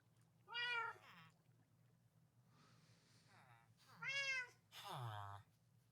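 A video game cat gives three distinct meows, close and clear, separated by short quiet gaps over a faint low hum.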